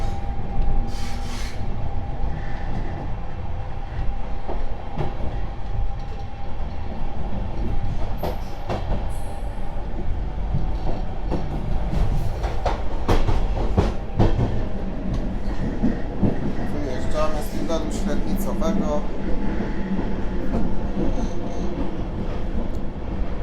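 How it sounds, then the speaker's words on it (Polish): Steady rumble and rolling rail noise inside a passenger train hauled by a Vectron locomotive, loud and continuous with occasional clicks and faint squeals, no voices. "Pierwszy raz jadę składem, który prowadzi Vectron."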